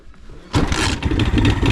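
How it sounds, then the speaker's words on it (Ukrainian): An Alfa Romeo car engine, said to have previously seized, cranks and catches, jumping from a quiet background to a loud, steady running roar that carries on close by without talk. "О, ще й заводиться."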